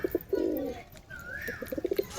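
A pigeon coos close by in a loft, a few low rolling coos with short pulsing notes, clear and alone without speech.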